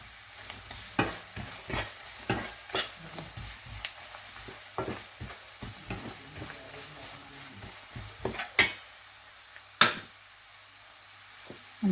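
Coconut pieces fry and get stirred for a Kerala cashew curry, a low sizzle under sharp, irregular clinks and scrapes of a spoon against the pan.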